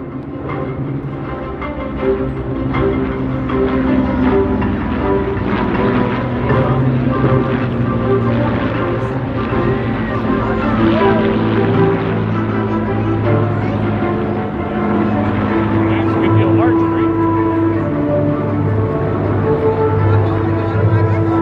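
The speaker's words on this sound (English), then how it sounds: "There they are. B-29 and the Lancaster." The B-29 Superfortress FIFI and an Avro Lancaster fly over an airshow, their piston engines making a loud, sustained droning rumble that holds steady throughout, with faint crowd sounds mixed in.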